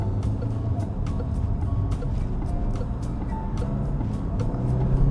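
A 2024 Peugeot 408 GT PHEV plug-in hybrid pulls hard in sport mode, heard from the cabin as a steady, fairly quiet drone of engine and road noise with faint regular ticking over it.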